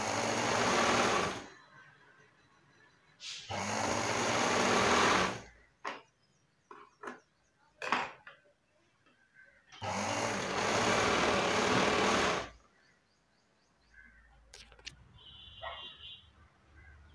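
A sewing machine stitches a blouse in two long, loud, rapid runs, separated by quieter handling clicks and soft thumps of fabric being adjusted, with a brief voice near the end.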